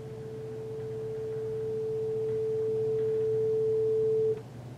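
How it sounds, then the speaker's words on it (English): A single pure sine tone holds one steady pitch while growing gradually louder for about four seconds, then cuts off abruptly, leaving a low background hum. "Now these are just sine tones"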